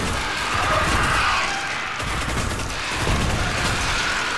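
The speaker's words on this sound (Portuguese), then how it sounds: "Vou usar granada pra me defender." Continuous dense gunfire with bursts and blast-like crashes from a Destiny firefight where a grenade is thrown, loud and steady throughout with no talk.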